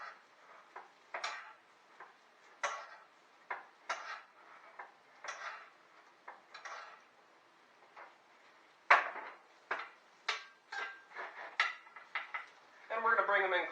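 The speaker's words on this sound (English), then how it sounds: "we're going to butter baste" Pork chops butter-basting in a hot pan: a spoon clinks and scrapes against the metal pan in irregular bursts while fat sizzles softly, close up, with a brief hiss at the end.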